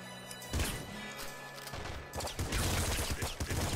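Shotgun blasts in the video game Nuclear Throne crack out in quick bursts, sharp punchy reports with scattered impact crashes, a dense cluster at the start and another volley in the second half.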